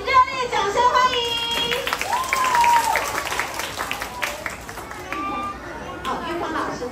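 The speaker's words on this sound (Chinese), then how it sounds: "请热烈掌声欢迎" Audience applause and clapping at an elementary school anniversary celebration and award ceremony, a moderate wash of hands with voices and chatter mixed through it.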